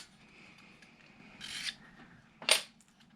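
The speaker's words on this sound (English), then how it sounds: "you get a razor blade or some sandpaper" Sandpaper rubbing against the edge of a circuit board during a guitar pedal build, two short, crisp rasping strokes about a second apart over quiet background.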